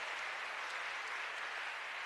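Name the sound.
congregation clapping at a church conference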